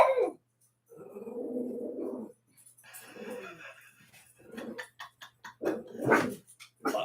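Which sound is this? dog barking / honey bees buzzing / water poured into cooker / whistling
dog barking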